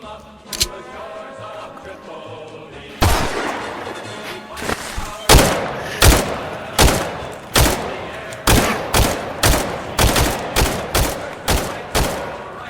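Gunfire in a first-person shooter video game: a pistol shot, then a loud burst at about three seconds and a steady string of single shots, roughly one or two per second, dominating the clip.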